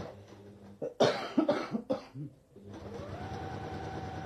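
A sewing machine stitches across a bag lining, starting with a brief low whir and then running steadily and fairly quietly after a cough and throat clearing nearby.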